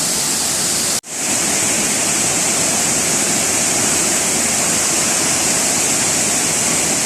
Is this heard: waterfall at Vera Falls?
yes